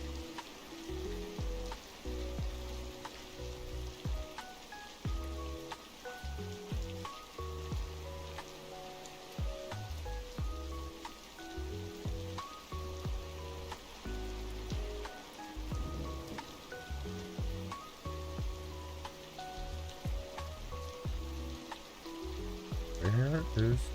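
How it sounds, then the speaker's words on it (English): Steady rain patters across surfaces in the Scrap Mechanic video game, a dense continuous hiss with scattered drop ticks and shifting low rumbles that stays even throughout. "Where is the rain coming from?"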